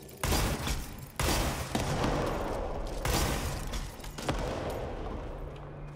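Sustained rapid gunfire in the video game Control, dense overlapping shots and impacts with several sharp bursts, loud and continuous throughout.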